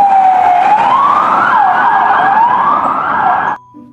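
A toy police car siren wails loud and close, sweeping up and down in a steady electronic yelp for several seconds before cutting off abruptly.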